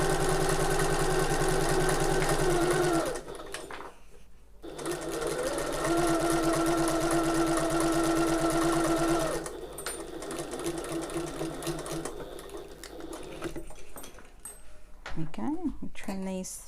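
A sewing machine stitches tote bag handles in two long, steady runs, with a short pause between them and quieter handling and fabric sounds afterwards.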